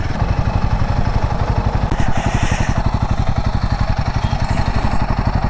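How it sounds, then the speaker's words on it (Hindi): A Royal Enfield Himalayan 450 motorcycle being ridden, its engine thumping in a fast, steady pulse with wind rush, loud and close throughout. "ऑलमोस्ट 51 किलोमीटर से मैं बाइक चला रहा हूँ"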